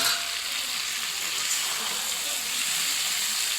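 Potatoes sizzle in hot oil for a Bengali-style chicken aloo tarkari, giving a steady, bright, hissing crackle that carries on without a break.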